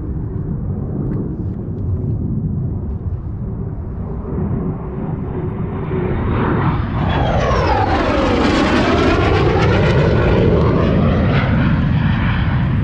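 F-35 fighter jets flying over Windermere, a low roar swelling steadily into a loud, close overhead rush with a sweeping Doppler shift as they pass, then a sustained rumble.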